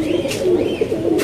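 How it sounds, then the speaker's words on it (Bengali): Pigeons coo in a cage, a close, loud, throaty coo rolling through a short burst, with no talk. "এই খাঁচার কবুতরগুলো আপনাদেরকে আবার একটু ভালো করে দেখাই"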